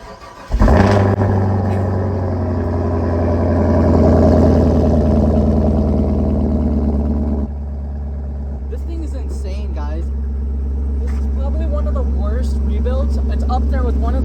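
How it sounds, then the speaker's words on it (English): Chevrolet Camaro cold start triggered by remote start: the engine cranks and catches with a sharp burst, then settles into a loud, deep fast idle that steps down to a lower idle, with people talking over it. "let's get a cold start on the Camaro"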